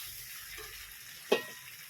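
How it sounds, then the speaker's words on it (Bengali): Goat head and meat trimmings curry frying in a pan, with a steady low sizzle and a single sharp clink of a spoon against the pan, with no talking. "ঢাকা চাপা দিয়ে দিয়ে আমি এটাকে একটু ভালো করে কষিয়ে নিচ্ছি"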